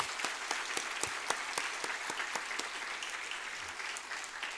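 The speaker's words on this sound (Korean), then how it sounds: "박수 한번 치실래요?" A church congregation at a Friday worship service in Seoul applauds, a steady even patter of clapping heard from a distance, fairly quiet and sustained throughout with no voices over it.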